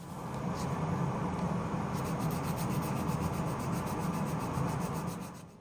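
Wooden pendant being sanded on a lathe, a steady close rubbing hiss that runs continuously for about five seconds and then tapers off at the end, with no talking.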